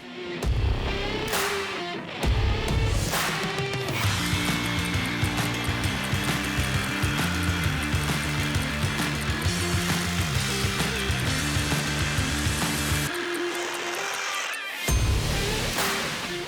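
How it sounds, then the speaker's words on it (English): A Milwaukee SAWZALL reciprocating saw with a new blade cuts out a tree stump, its motor buzzing loudly in a fast, steady rhythm with short pauses and restarts, close and uninterrupted by talk. "let's see what the new SAWZALL blade can do."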